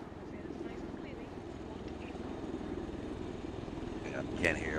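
Military helicopter in the video game Arma 3: a steady, low rotor thrum and engine rumble holding at an even level, close and constant, with players talking over it.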